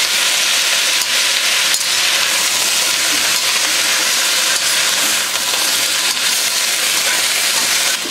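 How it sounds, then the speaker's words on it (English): Gai Lan sears in a hot pan with a loud, continuous broad sizzle and hiss that holds steady throughout, with faint stirring movements underneath. "The Gai Lan a quick sear."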